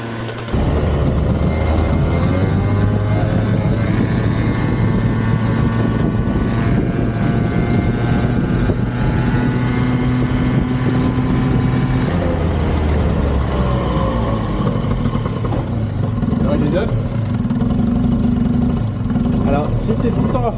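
A 50cc two-stroke moped engine, restarted after eighteen years abandoned, runs steadily and loudly at close range throughout, its pitch wavering slightly, with people talking over it.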